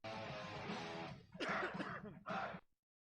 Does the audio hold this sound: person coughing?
yes